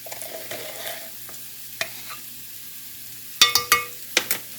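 Onions frying in a pan are stirred, with a faint sizzle underneath and a handful of sharp scrapes and clacks of a utensil against the pan, clustered toward the end.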